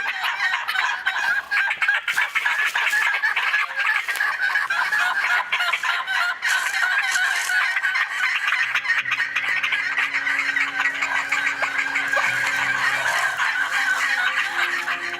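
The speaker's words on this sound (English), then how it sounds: "Can you hear the turkeys?" A chorus of wild turkeys calls continuously, with gobbles and clucks overlapping at steady volume throughout.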